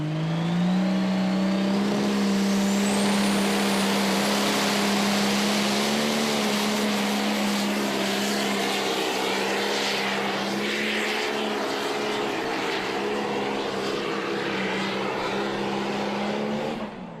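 The Pro Stock pulling tractor Whiskey Wild makes a sustained, very loud engine howl at a tractor pull in Chandler, Arizona, with a rising turbo whine early on and a steady roar throughout before a brief cutoff.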